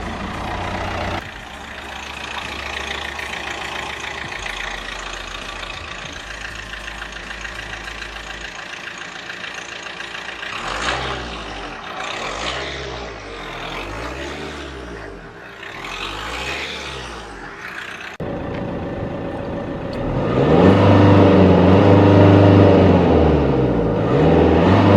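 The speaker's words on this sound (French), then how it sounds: "C'est le moteur, il tourne au quart de tour les moteurs." A Mercedes A-Class AMG engine runs up close with a steady idle and wavering pitch, then the revs climb into a louder, fuller roar near the end.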